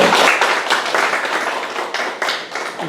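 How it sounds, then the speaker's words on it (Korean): An audience claps to welcome a professor at a lecture, a dense patter of hand claps that is loud and steady before easing slightly toward the end, with no talk over it. "박수로 환영해 주시면 감사하겠습니다"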